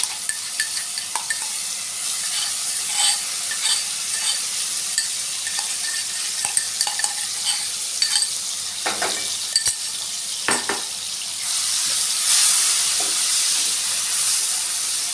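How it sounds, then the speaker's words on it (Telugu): Crushed garlic and chili paste frying with cumin seeds in hot oil, a steady close hiss and sizzle broken by scraping stirs and spoon knocks against the pan, rising into a louder sputtering burst toward the end, with no talking. "దీన్ని మంచిగా ఒక 2-3 నిమిషాల పాటు ఇలా కలుపుకుంటూ వేయించుకోవాలి."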